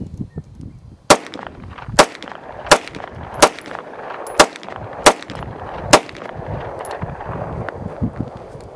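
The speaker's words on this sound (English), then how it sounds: "So let's get some rounds going down range." Seven sharp pistol shots from a 1943 German-made Walther P38 ring out at a steady pace about a second apart on a range, each a loud crack with a brief echo, followed by quiet outdoor ambience.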